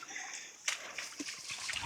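An object drops into a river beside an old stone bridge and sluice, giving one quick splash over a steady low rush of flowing water, faint and fairly distant.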